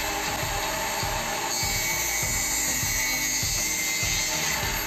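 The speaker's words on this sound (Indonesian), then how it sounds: "Kita garis terlebih dahulu, kemudian kita potong menggunakan gerinda tangan." A handheld angle grinder cuts a length of white PVC H trim during a small kitchen ceiling renovation, a steady high whine with repeated rhythmic pulses as the disc bites through the plastic, close and continuous without talk.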